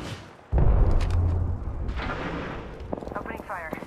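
Loud video game gunfire erupts abruptly, a heavy booming burst followed by sustained rumbling shots, with a game character's voice speaking over the tail end.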